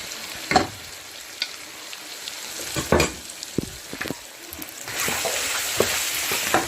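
Meat sizzles as it fries with ground cumin, red chilli, turmeric and crushed coriander for degi aloo gosht, a steady hiss broken by several sharp spoon scrapes and stirs, close and fairly loud.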